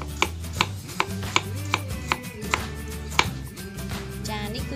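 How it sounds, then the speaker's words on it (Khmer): A kitchen knife slices galangal on a cutting board while spices are prepped for Cambodian stir-fried beef, with about eight crisp, evenly spaced chops that are close and distinct over a quiet background. "ចាអញ្ចឹងយើងហាន់រំដេង"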